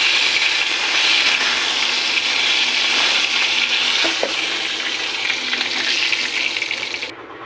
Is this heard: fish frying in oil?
yes